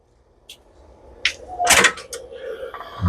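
Pool bath door in a renovated pool home opening or closing: a soft click, then a louder knock and rattle around the middle, followed by lighter taps, nearby in a quiet room.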